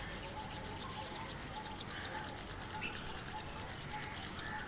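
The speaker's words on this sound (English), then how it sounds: "just rub your hands" Palms rub together in a soft, steady brushing during a beginner yoga session, faint and continuous with no talking.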